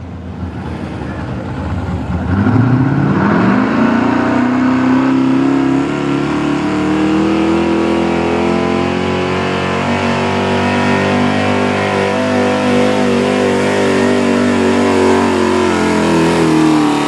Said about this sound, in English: Oh, that little V6 sounds good.